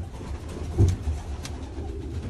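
Soft pigeon cooing, a brief low coo near the middle against faint background noise, fairly quiet and close.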